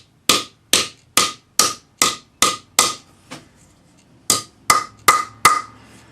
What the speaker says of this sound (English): use my cross pane hammer, or in this case a jeweler's hammer, and just gently hammer in the middle